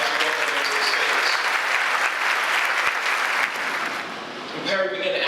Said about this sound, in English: Clap your hands, y'all, as you welcome them to the stage.